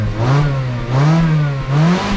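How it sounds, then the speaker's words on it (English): A used car at an Australian car auction revs its engine up and down in a few long, loud surges, heard close up with no talk. "Yeah, we'll do a rev."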